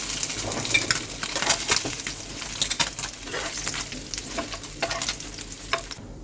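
Small mourala fish fry in oil with a lively, crackling sizzle, plus occasional scrapes and light metallic taps from turning them.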